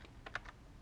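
A few quick, soft keystrokes tap on a computer keyboard as text is highlighted with shortcut keys, faint and close against a quiet background hiss.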